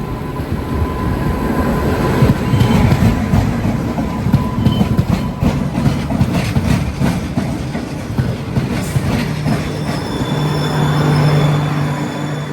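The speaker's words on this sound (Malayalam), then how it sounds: "രത്നാഗിരി ദീപ പാസഞ്ചറാണിത്." The Ratnagiri–Diva passenger train on the Konkan Railway rolls by close up with a continuous loud rumble, rhythmic wheel clatter and faint squeals from the rails, with no voices.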